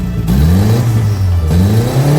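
A worker's car engine revs steadily up and down, loud and close, its pitch rising and falling in rhythmic swells with no talk over it.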